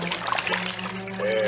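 Hot water trickles and splashes close by in a steady run, a voice briefly speaking over it.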